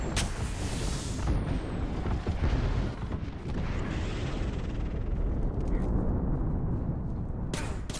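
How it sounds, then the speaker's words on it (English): Airstrike explosions in Apex Legends, called in by Caustic: a sustained, loud rumbling roar of blasts with a sharp crack at the start and another near the end, no talking. "Calling the airstrike."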